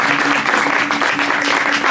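An audience at a French storytelling event claps loudly and continuously, a dense, steady wash of applause lasting the whole moment with faint voices mixed in.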